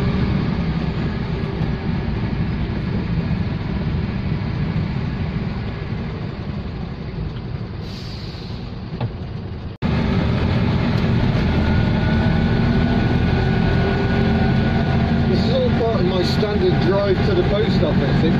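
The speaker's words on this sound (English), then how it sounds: "I've been blowing along on barely any throttle at all." An Invacar CVT invalid carriage drives along on very light throttle with its continuous transmission, giving a steady engine and road drone that fills the clip, with a brief dip partway through.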